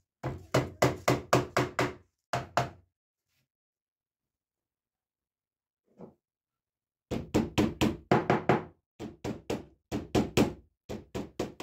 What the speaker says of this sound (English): I'll just hammer in the door furniture